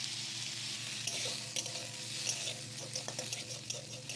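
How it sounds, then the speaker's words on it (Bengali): Potatoes fry in oil in a pan for a Bengali soybean and potato curry, giving a steady, soft sizzle with occasional faint crackles and spatters close by. "আমি এখানে দিয়ে দিচ্ছি কয়েকটা আলু যেটা আমি একটু লাল করে ভেজে নেবো"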